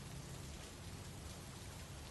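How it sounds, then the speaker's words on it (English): Steady rain falls on a cottage after a gunshot, a continuous even hiss with a low rumble underneath, filling the scene alone at a faint level with no voices. "all I could hear was the sound of the rain"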